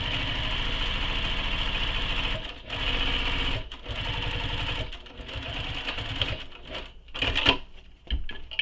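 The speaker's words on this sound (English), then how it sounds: "So now I'm going to top stitch this, and I'm still keeping my long stitch length that I used for basting" A sewing machine runs steadily top stitching with a long stitch length, a fast, even mechanical whir with a few brief pauses and restarts, close and alone without talk.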